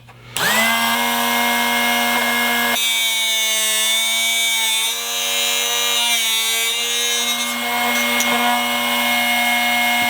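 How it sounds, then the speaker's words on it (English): A Drill Doctor 750X sharpener grinding a drill bit makes a steady, loud mechanical whine with a high metallic ring, running continuously and shifting slightly in pitch partway through. "just push that in until the grinding stops"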